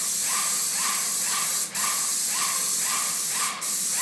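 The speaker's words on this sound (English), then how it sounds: "He's really good with an airless sprayer." An airless paint sprayer coats an Armstrong ceiling with Sherwin Williams CoverMax, giving a steady loud hiss broken by two short pauses as the trigger releases.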